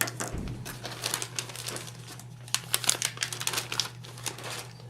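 An ESD plastic bag holding a 4G radio is handled, giving off quiet, irregular crinkles and crackles close by over a faint steady hum.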